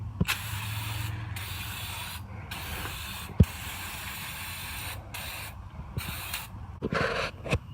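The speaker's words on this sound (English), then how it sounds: "we're going to grab our brake cleaner and just spray it all down" Aerosol brake cleaner sprayed over the drum brakes of a Jeep TJ, coming as several long hissing bursts separated by short pauses, with a few sharp knocks and clanks between sprays.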